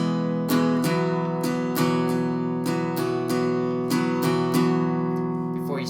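Acoustic guitar strums the verse chords of a song in an up-up-down pattern, a close, steady series of bright strokes repeating evenly with no talking.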